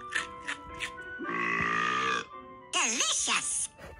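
A cartoonish character in a talking pet video game lets out a drawn-out, voiced burp lasting about a second, loud and close, between short squeaky game sounds and a warbling electronic chirp.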